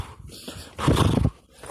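A person imitates a horse with a short voiced whinny-like burst, loud and close, preceded and followed by softer breathy vocal sounds.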